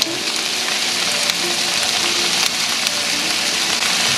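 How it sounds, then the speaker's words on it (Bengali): Beans and chili sizzling in a hot pan with mushrooms, a steady, dense frying hiss with faint crackles and pops, close and continuous with no talking. "এবার আমি এটাতে বিনসগুলো অ্যাড করবো লঙ্কাটা দিয়ে দিলাম"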